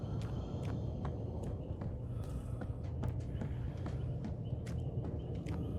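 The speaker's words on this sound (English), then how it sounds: "You heard them moving. You heard their footsteps there." Survivors' footsteps in Dead by Daylight: soft, irregular steps and light ticks scattered over a steady low ambient rumble, fairly faint and alone without talk.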